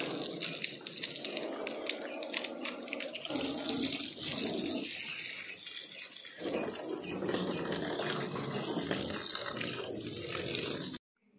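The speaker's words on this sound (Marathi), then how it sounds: "गाडीवर पाणी पण मारायचं आहे, ते पण मारून घेतो" Water is sprayed over a car to wash it, a steady loud hiss and splash that keeps going with shifts in intensity, then cuts off abruptly at the end.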